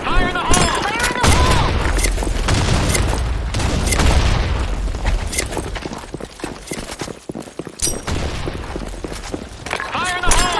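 In a video game, grenade explosions mix with dense gunfire as a series of loud booms and sharp bursts, crowded together at close range. A game voice speaks over parts of the action.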